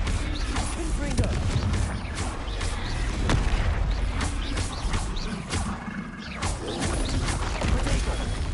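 Confringo fire-spell blasts in a Hogwarts Legacy battle: a dense, loud stretch of booming impacts, crashes and mechanical rumbling with sharp transient hits scattered throughout, under in-game sounds and a voice calling out spells.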